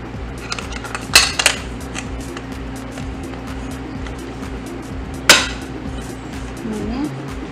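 An aluminium flan mould is covered with aluminium foil in a kitchen, with steady foil rustling and crinkling under a few sharp metallic clinks and taps close by.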